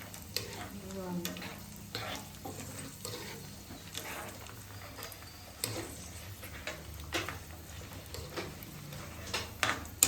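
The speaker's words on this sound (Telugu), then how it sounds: "ఎండి ద్రాక్ష ఒక నెయ్యి లేకపోతే నూనెలో అయినా వేపుకోవచ్చు" Raisins, along with cashews, fry in ghee for a sweet bread pudding, with a low, steady sizzle and frequent light spoon scrapes and taps close by.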